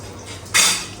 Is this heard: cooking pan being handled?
yes